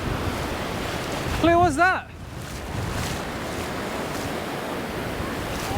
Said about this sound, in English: There's 2 sets of waves.